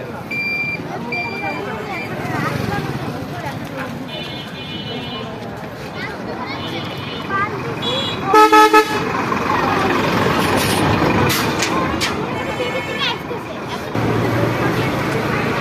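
Busy road traffic near BKSP in Rajshahi, Bangladesh, with engines rumbling and repeated car and truck horns honking close by, including one loud blaring blast, while a person talks throughout.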